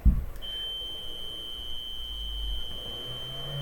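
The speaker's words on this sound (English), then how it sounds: "Obviously, this fire alarm is giving me something to think about." A fire alarm sounds a piercing, sustained high-pitched tone that begins just after a brief thump and holds steady and loud indoors over faint room noise.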